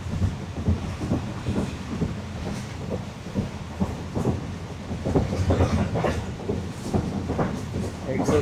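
The restored Khushal Khan Khattak passenger train on its Karachi to Peshawar run rumbles along the rails, heard from inside as a continuous low roar with irregular knocks and clacks rising and falling.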